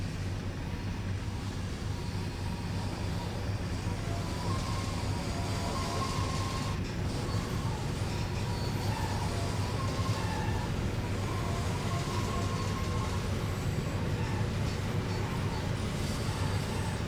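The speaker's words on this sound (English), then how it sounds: "the next train to Newark Penn Station will be arriving on the Highbridge-bound track" A train in the Trainz railway simulator rolls into a station in a steady, moderately loud rumble of wheels and engine, with faint squeals and clanks, no voices.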